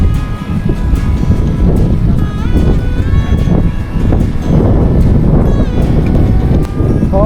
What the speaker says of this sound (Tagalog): Hangin na rito. Mahangin na.